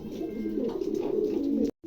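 Several Gorgoria pigeons sold as a group of four coo in a steady, low, continuous murmur close by, with no talking, ending in a short break of near silence.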